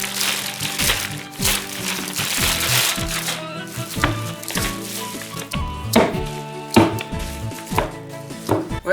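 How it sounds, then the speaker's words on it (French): A parcel is torn open and unpacked for an unboxing of puzzle cubes, with close, irregular crinkling, ripping and tapping of cardboard and packing material in sharp bursts. "je vais directement commencer par ouvrir le colis."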